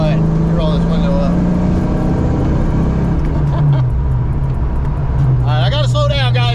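A car with headers, an off-road H-pipe exhaust, a cat-back system and 4.10 gears drives along with a loud, steady, low exhaust drone whose pitch dips partway through. Faint voices come in near the end.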